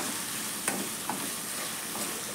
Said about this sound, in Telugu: మీడియం ఫ్లేమ్లో పెట్టుకొని గోల్డెన్ కలర్ వచ్చేదాకా ఫ్రై చేసుకోవాలి